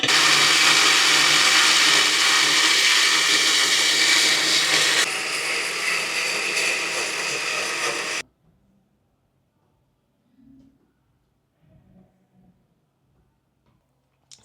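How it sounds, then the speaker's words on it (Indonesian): A kitchen blender grinds chili and spices with a loud, continuous whirr that shifts slightly in tone midway, then stops abruptly after about eight seconds, leaving near silence with faint small sounds. "ini akan di blender dulu"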